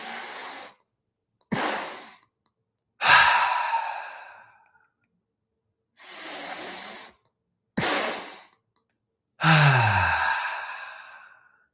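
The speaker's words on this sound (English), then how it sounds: "sniff in a jolt of air again. Exhale through your mouth." Breathwork drill: a person sniffs in quick jolts of air through the nose, then lets out long, audible sighing exhales through the mouth. The sharp sniffs and breathy releases alternate in close, distinct bursts separated by silence.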